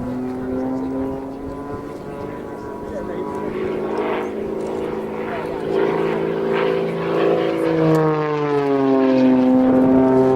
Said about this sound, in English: pulling the aircraft round in a really tight little loop there